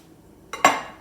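An ingredient goes into a mixing bowl as a short, sharp clatter that rings briefly and then fades, with no other sound around it.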